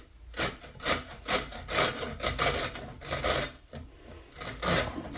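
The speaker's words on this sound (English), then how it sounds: "Let's clear up our beetroot skins, and then we're going to grate it." Beetroot rubbed against a hand grater in a home kitchen, a run of about a dozen rhythmic rasping strokes at a steady pace, close and fairly loud with no talking.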